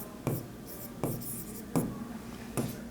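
A pen scratches across paper while an accounting problem is worked out, in four short, distinct strokes spaced about a second apart, close and fairly quiet.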